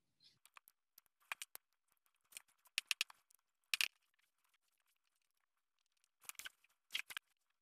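Scissors carefully snipping apart blood vessels of a heart during a dissection, a few short close cuts in small clusters separated by silence, quiet and crisp.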